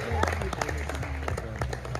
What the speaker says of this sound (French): Merci d'applaudir pour Christelle, s'il vous plaît